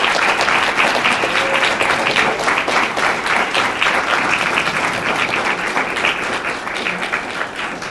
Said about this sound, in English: Can y'all stand up and let the students give y'all a round of applause?